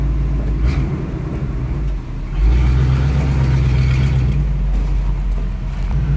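A 1976 GMC Jimmy runs while being shifted, giving a loud, close, steady engine rumble. The rumble dips briefly partway through and then settles back to an even drone.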